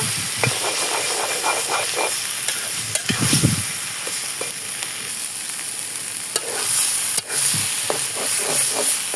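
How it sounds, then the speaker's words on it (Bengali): Taro greens being fried in a pan with karamcha, a close, continuous sizzle and hiss broken by stirring scrapes and clatters of a utensil against the pan. "ফ্রাই হয়ে গেছে আর একটু ভেজে নেবো"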